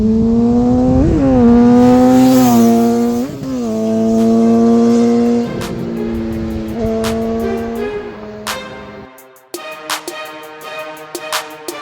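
A 2007 Honda CBR600RR with its 599 cc four-stroke transverse four-cylinder engine revs loudly and up close in repeated sharp bursts, rising and falling in pitch, then drops to a lumpy idle with popping and crackling.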